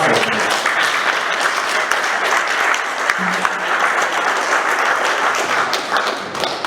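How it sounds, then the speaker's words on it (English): Dense, steady audience applause at an awards-style event, many hands clapping continuously at even loudness throughout, with a faint voice briefly audible partway through. "Clap for me."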